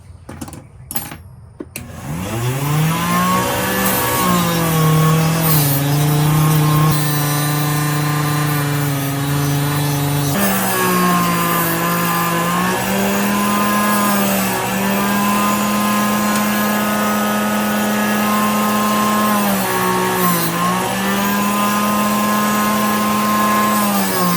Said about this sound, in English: I'm about to clean the brass up right here and the spring using the fiber wheel